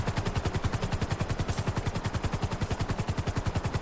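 Rapid automatic gunfire rattles in a steady, unbroken stream of evenly spaced shots in Grand Theft Auto Online, loud and close with no talk.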